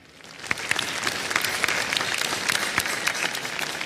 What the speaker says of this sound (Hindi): इस पे भी तालियां बज जानी चाहिए